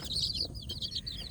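Kampung chickens cluck and chirp in a series of short, high calls at close range on a small free-range poultry farm, with a steady low background rumble and no talk.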